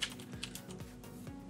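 Keystrokes on a computer keyboard while setting up a remote desktop server, a handful of quick, light clicks at an irregular pace, close and fairly quiet with no talking.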